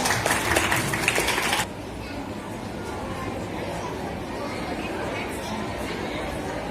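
A school audience at a Ramzan and Iftar celebration applauds a student group about to recite a surah. A dense burst of clapping fills the first moments, then stops abruptly, leaving low crowd chatter.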